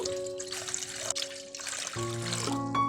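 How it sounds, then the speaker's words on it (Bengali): Water poured into a cooking pot in a home kitchen, a steady trickle with a ringing tone that shifts in pitch partway through as the pot fills. "এর জন্য একটি হাঁড়িতে 700 ml পানি নিব।"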